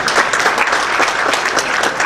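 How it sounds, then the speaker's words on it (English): At an annual police department members' dinner, a banquet audience gives a brief, loud burst of sustained clapping, dense and even throughout with no voices standing out. "Give her a big round of applause."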